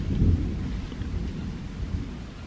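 A low rumble like distant thunder during a mountain climb up the Morro de Calzada in Peru, a steady deep roll with a soft rain-like hiss, no voices.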